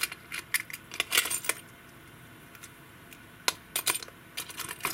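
Small metal pen nibs, G nibs, spoon nibs and school nibs, rattle and clink in a container in bursts of light, bright tinkling with quiet pauses between, close and fairly soft.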